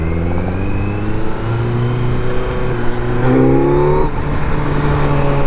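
Kawasaki Z900 motorcycle engine revving while riding, a steady close engine note with rising and falling harmonics as the throttle changes, loud and continuous with no talk.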